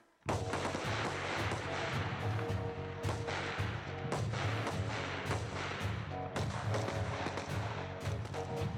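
Rifles fire in a rapid string of loud, sharp reports on a military range during a 25-round magazine relay, shots overlapping closely from several shooters with no talk.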